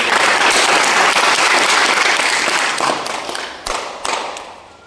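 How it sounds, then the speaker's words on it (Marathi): Loud, dense applause from an audience of students and adults at a children's values class event, sustained clapping that thins out with a few scattered claps toward the end. "आरोटे सरांकरता एकदा जोरदार टाळ्या"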